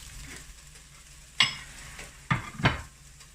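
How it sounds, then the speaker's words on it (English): Scrambled eggs being stirred and folded in a pan, with a soft background sizzle broken by three distinct scraping strokes of a utensil against the pan. "fold, fold, break it up just a little bit to cook the inside"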